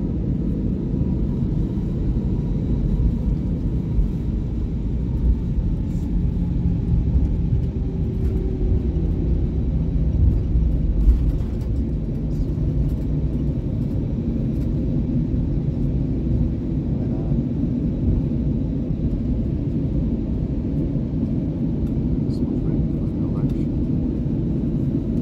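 Steady low cabin rumble inside an Airbus A320 on the ground before takeoff, an even engine and air-system drone that holds throughout, with faint voices and a cabin announcement underneath.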